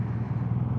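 A 2018 BMW R nineT motorcycle with its stock exhaust runs at a steady, deep, low rumble heard up close. The engine note is brief and unbroken, with no talking.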